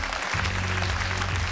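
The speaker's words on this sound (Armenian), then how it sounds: "Եկեք բարձր ծափահարենք Դավիթի մայրիկին" A television talent-show audience at an X-Factor Armenia gala applauds a contestant's mother, producing steady, dense clapping with a low hum beneath.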